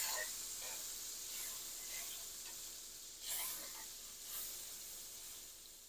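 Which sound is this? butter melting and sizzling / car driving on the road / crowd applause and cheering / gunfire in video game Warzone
butter melting and sizzling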